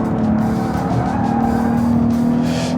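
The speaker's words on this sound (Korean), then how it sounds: "브레이크 너무 잘 꽂혀서 너무 미리 섰어요." A car with a 3.5-litre front-wheel-drive engine brakes hard on a test course. A loud, steady engine roar runs throughout, with a sustained tonal whine that fits tire skid.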